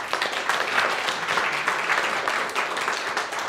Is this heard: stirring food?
no